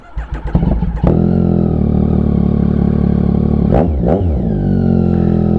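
A Yamaha XSR900 motorcycle in cold winter weather cranks unevenly for about a second, catches, and settles into a loud, steady close idle, with two quick throttle blips near the end.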